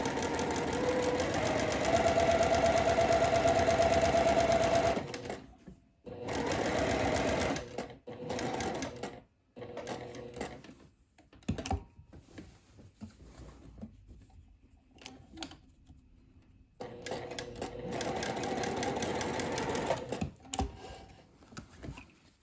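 Domestic sewing machine topstitching a French seam pocket, running in steady buzzing bursts separated by short pauses and quieter gaps as the fabric is turned at the corners.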